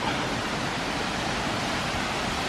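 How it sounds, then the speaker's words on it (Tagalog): A strong river current rushes under a bridge as a loud, constant broadband roar of churning water, close and unbroken throughout. "Malakas yung agos niya."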